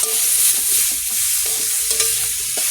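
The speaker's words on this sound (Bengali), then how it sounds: "এর ওলগুলো এর ওপর দিয়ে এগুলো ভালোভাবে কষাই করবো" Fish with garden-grown taro and garlic sautéing and being stirred in a pan, a steady close sizzle broken by scraping stirs, with no talk.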